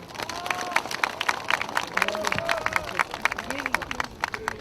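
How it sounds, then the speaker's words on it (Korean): A crowd claps in a scattered, steady patter of applause at a Korean statue unveiling ceremony, with some murmuring voices underneath. "박수 부탁드립니다."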